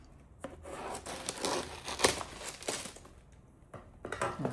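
A blade cuts into the cardboard packaging of an iPad Pro box, giving close, quiet scraping, rubbing and crinkling bursts in irregular strokes with short pauses between them.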